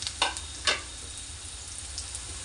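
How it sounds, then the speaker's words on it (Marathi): Onion fries in hot oil in a pan, giving a steady sizzle. Two sharper crackling bursts come near the start, and the spitting is close and moderately loud, with no voices. "त्याच्यात आपण आता इथे कांदा परतून घेणार आहोत"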